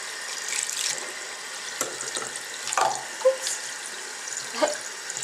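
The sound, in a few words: tap water running over makeup brush bristles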